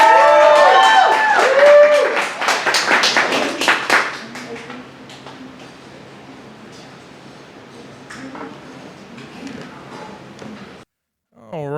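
Poetry slam crowd at a tavern claps and cheers for a poet, loud burst at first that fades into scattered lighter clapping and murmur, with voices nearby and a brief ping near the end.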